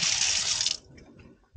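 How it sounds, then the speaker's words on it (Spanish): Running tap water gushes steadily while hands are washed at a sink before preparing sardines with salt water, then the flow stops abruptly, leaving faint drips and small handling sounds. "Vamos a lavar un poco las manos."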